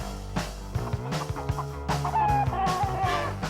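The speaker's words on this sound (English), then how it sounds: "These roosters aren't like the chickens that you buy in the grocery store or at a fast food restaurant. These are game roosters." Game roosters cluck and call in a rapid, uneven series of sharp, nearby bursts, with a few longer warbling calls toward the end.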